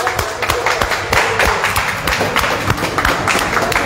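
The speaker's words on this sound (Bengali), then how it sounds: "একদম একটু ক্ল্যাপিং সবাই মিলে।" A group clapping together at a cake-cutting celebration for a new Yamaha R3 motorcycle at a dealership in Durgapur, steady rhythmic applause that fills the whole stretch, close and fairly loud, with some voices mixed in.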